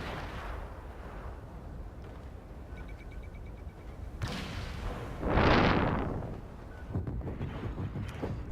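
An orbital strike landing in a 2v2 multiplayer video game match, with a heavy booming impact swelling loudly in the middle over a background of game noise and scattered thuds.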